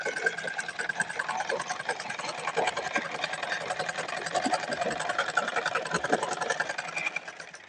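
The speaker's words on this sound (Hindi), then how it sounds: "तो इस तरीके से बराबर करते हुए हमें सिलाई लगाना है।" Sewing machine stitching pyjama panels together with a half-inch seam margin, a continuous fairly quiet mechanical whir throughout.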